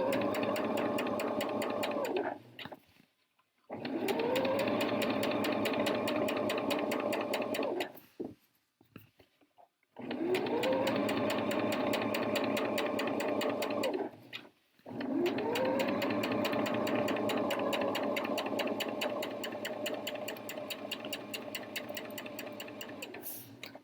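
Sewing machine stitching a jacket, four long runs of rapid steady mechanical whirring and clacking, each starting up and stopping with brief pauses between, close and fairly loud.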